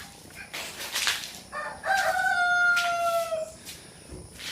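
A rooster crows one loud, drawn-out cock-a-doodle-doo at fairly close range outdoors. Scattered clucks and faint background noise come before and after it.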